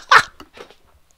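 A dog in the video game Fallout 4 lets out one short, close bark, followed by a couple of softer huffs and breaths that fade into quiet.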